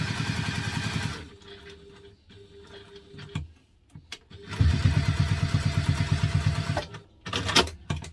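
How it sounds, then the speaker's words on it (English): Sewing machine running bursts of top stitching around the sewn edges of a small double-zip fabric wallet, a close rapid mechanical chatter that stops for a quiet pause and then starts again. "using your construction length stitch, we're just going to top stitch around the sewn edges"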